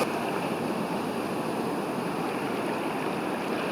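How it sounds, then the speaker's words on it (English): Water on a video's audio track gives a steady, dense rushing wash like surf or a flowing stream. It holds an even level throughout with no talking. "well, that's just audio of the water."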